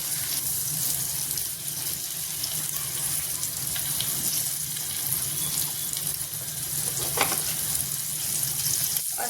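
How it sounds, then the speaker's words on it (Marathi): Garlic and curry leaves frying in a pan, a steady, fairly faint hiss and sizzle running throughout with small crackles and light clinks. "मी थोडंसं लसूण आणि कढीपत्ता घातलाय आहे"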